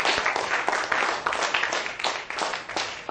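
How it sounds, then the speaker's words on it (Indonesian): Classroom of schoolchildren clapping together, a dense burst of many hands with uneven rhythmic peaks, fairly close and loud, lasting a few seconds with no talk over it. "Kita tepuk tangan untuk kalian semua"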